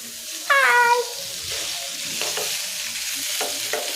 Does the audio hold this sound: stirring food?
yes